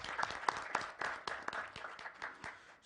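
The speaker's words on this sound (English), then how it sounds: "we should give a round of applause for all the achievements" Audience applause at a Safaricom Sacco 20th-anniversary event, heard as quiet, fairly even clapping that pulses steadily for a few seconds and softens toward the end.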